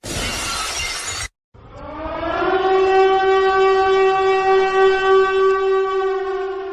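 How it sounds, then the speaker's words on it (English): A burst of shattering glass cuts off abruptly, then a loud wailing siren rises and holds steady for several seconds. "If you heard the glass shatter and you hear that siren, that means breaking news has happened"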